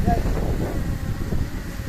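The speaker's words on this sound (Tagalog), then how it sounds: "Sobrang lakas talaga ng hangin." Strong gusty wind roars steadily around a DJI Mini 4 Pro drone flying outdoors, a dense low rumble buffeting the microphone throughout, with people talking over it.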